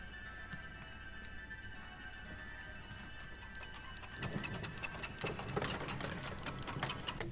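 A sewing machine runs in a horror film scene, a faint steady mechanical whir that turns into a louder, busier rapid ticking rhythm partway through, with no voices.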